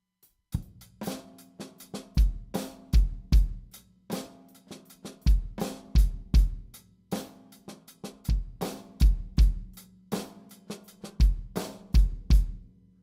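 A drum groove with loud snare accents on a steady beat and quieter ghost notes between them, kick drum underneath, played with no voices.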